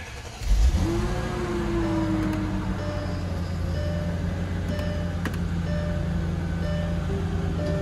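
A BMW E46 M3 engine cranks and fires up nearby, then settles into a steady, loud idle that runs on without a break, with no voices over it.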